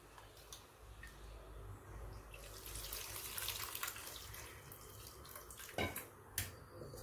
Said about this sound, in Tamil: இப்போ இது வேகிறதுக்கு தேவையான அளவு தண்ணி சேர்த்து நம்ம வேக விடணும்